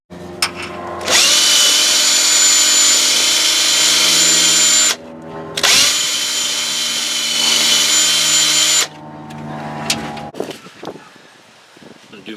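A power drill spins bolts to clear their threads during a small block Chevy water pump job on a C1500 Silverado, two long loud whirring runs with a short pause between, close up, then tapering off into light clinks.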